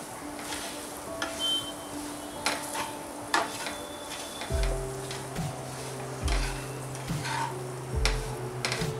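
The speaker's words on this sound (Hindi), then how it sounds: "आम के पीसेस डालकर हम इसको मिला देंगे" Mango pieces are stirred into a pickle spice mix with red chili powder in a pan, making quiet, intermittent scrapes and clinks of a spoon over a faint background, joined later by a steady low hum.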